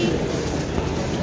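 Steady low rumble of a metro train in a crowded Delhi metro station, with a continuous rolling drone and crowd talk mixed in.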